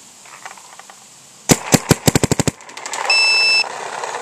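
Paintball marker firing a rapid string of about ten sharp, loud shots close by during a valve shim test on a Luxe 2.0 Ninja Pro setup, followed by a steady electronic tone.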